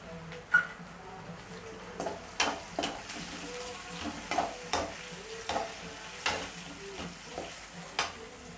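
Paste of five or six green chillies frying in a pan with spices, a steady close sizzle broken by a regular series of soft scraping stirs about once a second, no talking.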